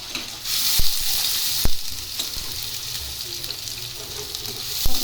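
Onions and vegetables fry in hot oil while noodles are cooked, making a loud, steady, close sizzle with a few sharp clacks of a utensil against the pan.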